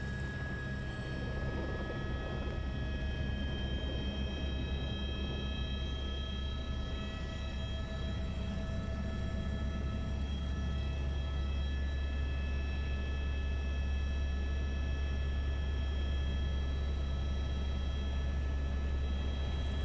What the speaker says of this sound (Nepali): जोमसोमबाट काठमाडौँसम्म हेलिकप्टरबाट उडान अवधि 1 घन्टाको रहनेछ